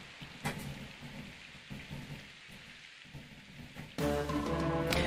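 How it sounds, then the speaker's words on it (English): Rain and thunder from the Fire Emblem video game: steady rainfall with low rumbling thunder that swells and fades, then a louder burst of storm noise joined by a tonal musical layer near the end, with no talk. "Yes, Sorn, I know, it's raining"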